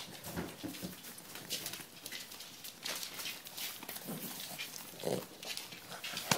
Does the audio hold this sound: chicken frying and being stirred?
no